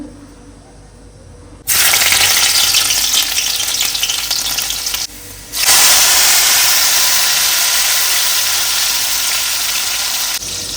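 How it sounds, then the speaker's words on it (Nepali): Garlic dropped into hot oil in a wok bursts into a loud, close, continuous sizzle that dips briefly, then roars back and holds steady. "अब यसमा म लाउँछु लसुनलाई फुर्याउँछु।"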